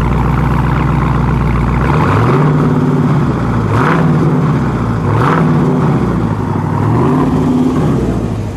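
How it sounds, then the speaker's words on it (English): A 2020 Plymouth Hemi Cuda, Mr. Norm's 50th anniversary edition, idles with a loud, deep V8 rumble and is blipped up into several rising-and-falling revs close by, with no talking. "Larry, give it one good Mr. Norm rev."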